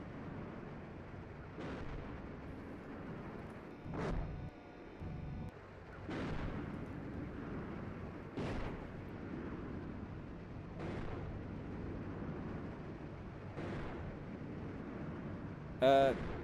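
Artillery shells and explosions boom repeatedly in the tank simulator Steel Beasts Pro PE, about half a dozen heavy blasts spaced a couple of seconds apart over a steady engine rumble, with radio voices talking at times.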